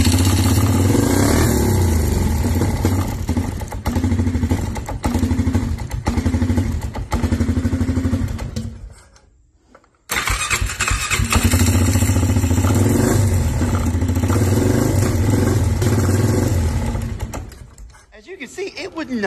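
Honda Fourtrax 300 ATV engine with a running fault, revving loudly near the mic in a buzzing, pulsing drone that cuts out abruptly around mid-clip, restarts, and then dies away again near the end.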